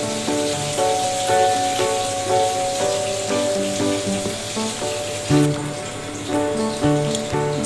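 Oil sizzles in a hot kadai while a home cook prepares an Assamese fish curry with pumpkin. The crackle is a close, continuous hiss under steady background music.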